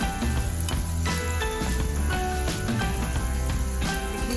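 Balushahi dough pieces deep-fry in hot oil, giving a continuous dense sizzle with crackling and popping bubbles that stays close and steady throughout, with no talk over it.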